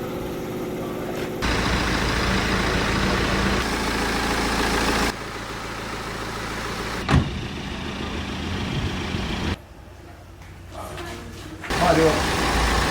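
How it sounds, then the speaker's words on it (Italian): A car with a strange noise is started and left idling, its steady engine hum running under people talking, with a brief thump partway through. "Accenda la macchina."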